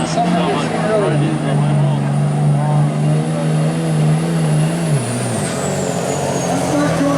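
A diesel truck's engine roars and drones steadily during a truck pull at the Vermilion agricultural fair, loud and close, with the pitch dropping toward the end while an announcer talks over it.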